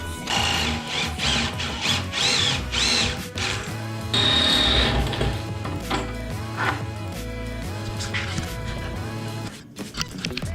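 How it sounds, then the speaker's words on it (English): A power drill bores a hole up into a table made from an old bike, its whining motor rising and falling in several bursts, steady and close, with one longer sustained run. "Easiest way to find the position is just drill up into the table."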